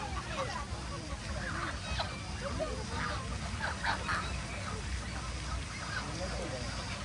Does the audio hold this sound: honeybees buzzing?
no